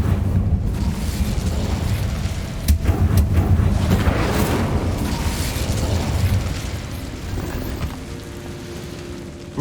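An Incendio fire spell is cast in Hogwarts Legacy, giving a sustained loud crackling, whooshing burst of flame with booming swells that slowly fades, and no speech.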